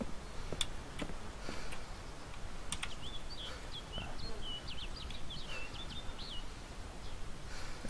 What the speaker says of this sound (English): sounds like someone playing with coins.